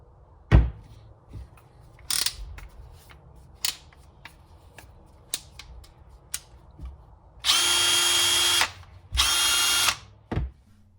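Greenworks drill driver whirring in two sustained bursts of a couple of seconds each, loud and close, after a scatter of sharp clicks and taps from handling the tool; no talking.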